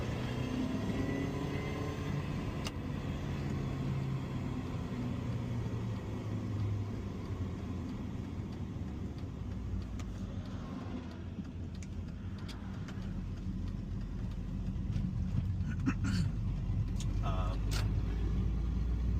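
A Mini Cooper R53 drives steadily and turns left into a neighborhood, its engine and road noise a continuous close rumble from inside the cabin, with a slight swell near the end and brief voices over it.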